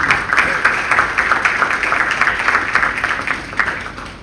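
Applause for an NTU associate professor serving as a judge, a short burst of fairly close clapping from a modest group, rhythmic and steady before gradually thinning.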